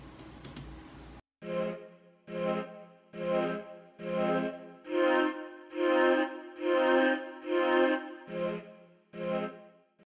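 Mellotron playing a few simple sustained chords, nine evenly spaced swelling chord stabs with breathy, tape-like tone, heard alone after a brief burst of other noise at the start.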